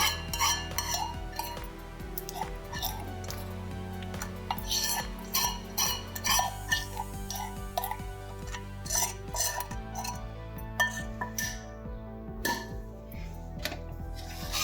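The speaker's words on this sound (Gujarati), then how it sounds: "ચાસણીને એડ કરીને પછી બધે જ આ મિક્સ કરી દેવાનું છે, હલાવવાનું છે." Roasted flour being stirred with cooled sugar syrup for Gujarati adadiya, a spoon or spatula clinking and scraping against a metal pan in steady, uneven strokes close by, with no voices.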